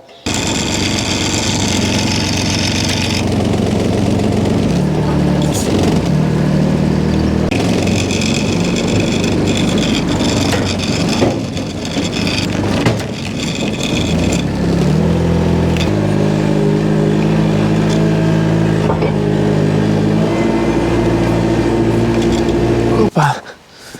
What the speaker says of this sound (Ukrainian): Залазимо, запускаємо вайдемана і їдемо.